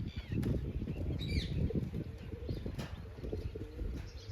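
A large pigeon flaps its wings in short rustling bursts close by, with faint bird chirps over a low rumbling background.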